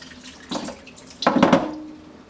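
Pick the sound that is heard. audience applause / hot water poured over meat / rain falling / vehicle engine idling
hot water poured over meat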